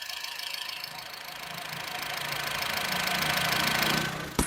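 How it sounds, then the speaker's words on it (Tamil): A Honda Amaze sedan engine idles steadily up close, a rough mid-pitched rumble that swells slightly before a brief clunk at the end. "இப்போ உங்களுக்கு இன்ஜின் நாய்ஸ் கேட்கும்."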